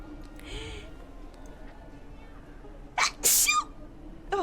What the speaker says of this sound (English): And I need to sneeze.